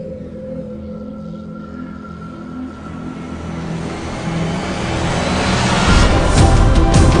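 A Mitsubishi Montero Sport drives with its engine droning low at first, then growing louder and rougher as it speeds up toward the end.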